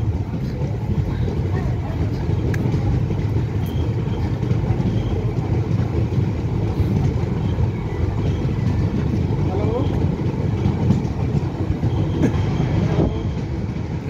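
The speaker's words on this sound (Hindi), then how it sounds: "चल पड़ी ये ट्रेन।" Indian Railways train under way on the Northern Railway line, a steady continuous rumble and rattle of the moving carriages heard from aboard, with no talking.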